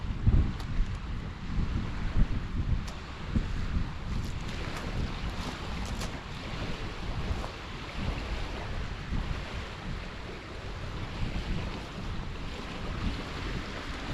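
Steady wind buffets the microphone on the shore of the Humber Estuary during a sea fishing session, a continuous low rumbling roar with gusty swells and water washing beneath it, with no voices.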